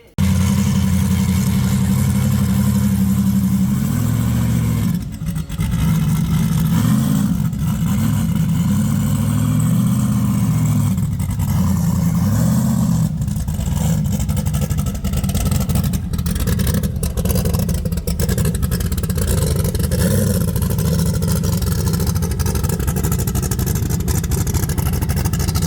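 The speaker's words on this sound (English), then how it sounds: "Four-wheel drive Mustang out here." A four-wheel drive Ford Mustang race car engine runs loud and close for the whole stretch, its steady rumble broken by repeated revs and surges of throttle, with no talking.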